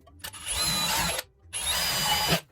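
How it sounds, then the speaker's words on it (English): A power drill bores through a metal mason jar lid in two steady bursts of about a second each with a brief pause between, close and fairly loud with a grinding, whining edge. "We'll drill this mason jar out with the lid."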